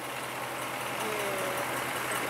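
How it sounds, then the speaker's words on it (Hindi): A Fiat 640 tractor engine drives a tube well pump through its PTO shaft at a farm well, a steady mid-pitched running drone that holds unchanged throughout with no breaks. "और ट्रैक्टर फीएट 640 है जी भाई"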